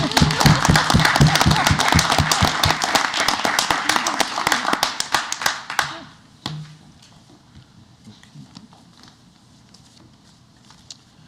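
Applause at a school district board of education meeting, loud claps from a modest room crowd for about six seconds, then thinning out to a few scattered claps and quiet room noise.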